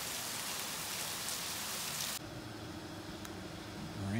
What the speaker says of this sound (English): is hammering rain